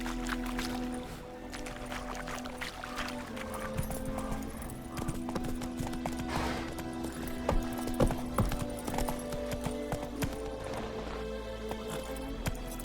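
Roach, the horse in The Witcher 3, gallops in a steady, continuous clip-clop of hooves, moderately close, over a low ambient wash.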